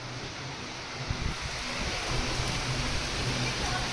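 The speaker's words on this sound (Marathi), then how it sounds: "पाऊस चांगलाच चालू आहे पुण्यामध्ये." Heavy rain pours steadily in Pune, a dense continuous roar with a faint low hum underneath; no one speaks.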